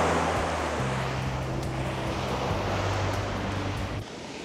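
Sea water and waves along the coast at Cabo de Gata, Almería, a steady broadband wash of surf with some wind noise, fairly loud and continuous, with a low engine-like hum under it, dropping slightly near the end.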